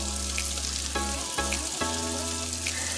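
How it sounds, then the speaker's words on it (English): Oil sizzles and crackles steadily as a Cornish hen deep fries, a constant hissing bubble close by, with a low hum underneath. "So we're gonna let this bad boy fry until it's nice and golden brown"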